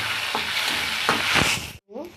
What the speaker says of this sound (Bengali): এদিকে পেঁয়াজটা ভাজা ভাজা হয়ে এসছে, এর মধ্যে আমি এবার একটা মাঝারি সাইজের টমেটো দিয়ে দেবো।